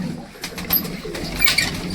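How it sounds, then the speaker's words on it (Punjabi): Pigeons bathing in a shallow metal tub make soft cooing calls mixed with brief splashing and wing flutters, close by and fairly quiet. "ਕਬੂਤਰ ਸਾਰੇ ਤਸਲੇ ਦੇ ਪਤੰਦਰ ਵਿੱਚ ਬੜੇ ਬੈਠੇ ਨੇ"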